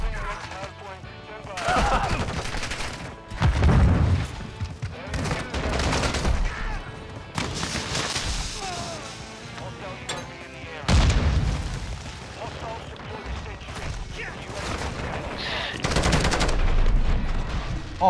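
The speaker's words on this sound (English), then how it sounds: "Oh, it's a sentry gun." Sentry gun fire in the video game Modern Warfare 2, bursts of rapid gunshots and booms mixed with other in-game gunfire, heard under excited player voices talking over the match.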